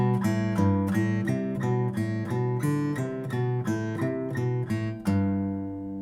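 Steady fingerpicked acoustic guitar pattern in G, a root note followed by a third above, plucked quickly and evenly for several seconds before a final chord rings out alone.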